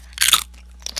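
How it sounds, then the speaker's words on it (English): Crisp crunching of chips being bitten, a dense burst of crunches up close followed by a few lighter chews, with no talking. "Crunchy chip action."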